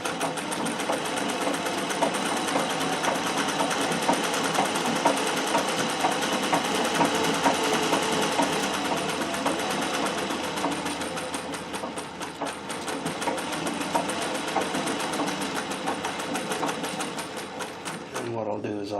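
A treadle-driven Singer 411G sewing machine with a custom balance wheel runs straight stitches in a fast, steady rhythmic clatter, loud and close, slowing and stopping near the end.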